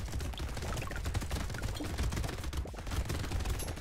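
Minigun fire in the video game Brotato, a dense, continuous rattle of rapid shots that runs without a break and sits fairly quiet in the mix.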